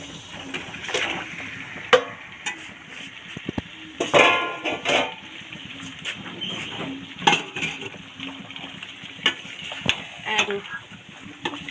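Boiled chicken goes into a kadai and gets stirred, with repeated scraping and clattering of a spoon against the pan over a soft sizzle, irregular knocks spread across the whole stretch.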